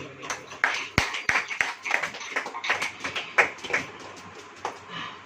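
A church congregation claps hands during a Hindi sermon, with scattered uneven claps and taps, some sharp and close, mixed with faint voices throughout.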